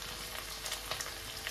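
Potatoes frying in a pan give a brief, steady, close sizzle with light crackling and no other sounds.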